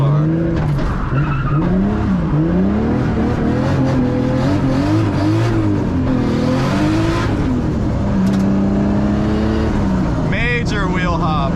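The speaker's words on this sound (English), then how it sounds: "Major wheel hop." A 500 hp Nissan 240SX accelerates hard at night, its engine roaring loud and close, with warbling pitch swings and juddering from wheel hop, then a sharp squeal near the end.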